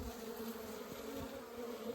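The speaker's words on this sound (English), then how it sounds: "Oh, the bees went over it." Honey bees buzz in a continuous, soft drone during a hive inspection, a steady hum with faint clicks and handling noise beneath it.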